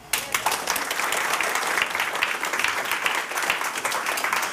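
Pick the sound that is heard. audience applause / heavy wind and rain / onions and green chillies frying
audience applause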